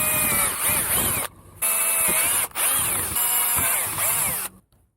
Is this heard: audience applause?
no